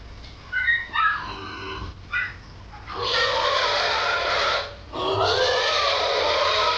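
A hungry native sow and her six piglets grunt and squeal on a farm, short grunts at first, then longer loud bursts of squealing, close by and with no talk.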